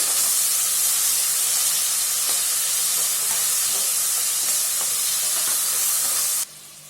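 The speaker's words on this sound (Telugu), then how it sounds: "ఈ జింజర్ గార్లిక్ పేస్ట్ పచ్చివాసన పోయేంత వరకు ఫ్రై చేసుకుందామండి" Ginger garlic paste fries in a pan with salt, a loud steady hiss and sizzle that runs unbroken for several seconds, with faint stirring scrapes, then drops away abruptly near the end.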